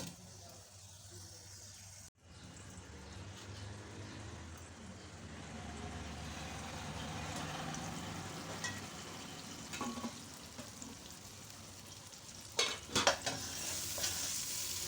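Tomatoes softening in a pan with no water added give a low, steady sizzle, with a few scraping clatters as a spoon stirs them, and a short louder burst of scraping near the end.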